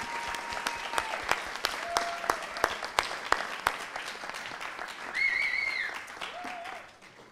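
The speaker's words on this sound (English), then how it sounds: "I would just like to give them all a big round of applause" A crowd at a scout youth forum claps in a scattered, irregular way at moderate volume, with a few whistles and short shouts rising over the clapping.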